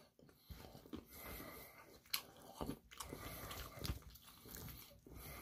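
Crunchy, well-seasoned French fries being bitten and chewed close up, with repeated crisp crunches and wet chewing sounds at an uneven pace, no talking.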